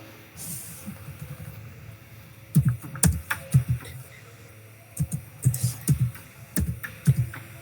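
Close keystrokes clatter on a computer keyboard in uneven bursts of rapid typing separated by short pauses, with a faint room hum beneath.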